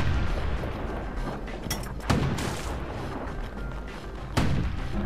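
Emergency defense turrets fire in the video game Bastion, sending out a steady rattle of shots with a few sharper booming blasts over it. No one talks.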